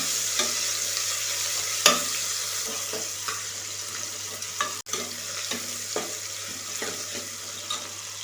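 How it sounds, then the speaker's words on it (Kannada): Tomato and green chillies frying in a pan for sweet pumpkin rice, a soft continuous sizzle broken by irregular sharp clicks and scrapes of stirring. "ಟೊಮೊಟೊ ಹಾಕ್ಕೊಳ್ಳಿ, ಹಸಿರು ಮೆಣಸಿನ್ಕಾಯಿನ ಅದ್ರ ಜೊತೆನೇ ಹಾಕ್ಕೊಳ್ಳಿ. ಚೆನ್ನಾಗಿ ಫ್ರೈ ಮಾಡಿ ಅದನ್ನು."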